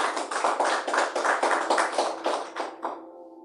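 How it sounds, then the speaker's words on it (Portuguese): Congregation clapping in a church service, rhythmic unison claps at a steady beat that stop abruptly after about three seconds, leaving a faint ringing tone. "Palmas para Jesus"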